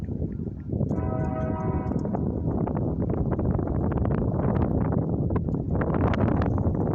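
Strong, gusty wind roars steadily into the microphone at a railroad crossing on a windy afternoon, a loud continuous buffeting rush with no one speaking.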